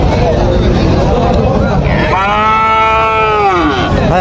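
Calves and cattle at a crowded livestock haat, with a loud, close moo rising over the background babble of the market crowd.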